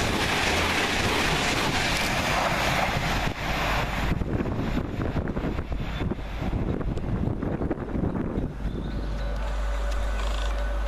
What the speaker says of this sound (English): as that departs, 800-020 and 800-025, Captain Tom Moore, work 1A16 from Bristol Temple Meads to London Paddington